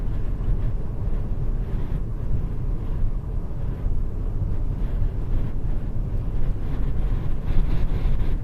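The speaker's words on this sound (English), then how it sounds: "Very strong wind right now." Very strong wind buffeting an outdoor microphone during high plains storm chasing, a continuous loud low roar with gusty rumbling and no voices.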